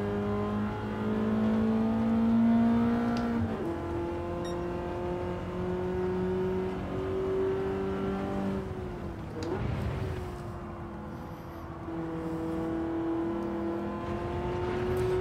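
A race car engine in Gran Turismo 7, played in PSVR2, holds a loud, sustained revving drone that climbs in pitch, drops sharply at two gear shifts, then rises again, with no talking.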